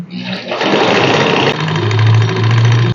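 A Honda Scoopy-i scooter with about 40,000 km on it runs nearby with an abnormally loud mechanical noise, a harsh rattling clatter over a steady idle hum, heard alone.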